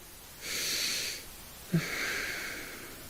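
Slow, deep breaths in a guided meditation class, a long airy inhale followed by a soft catch and a second drawn-out breath, close and steady with no talking.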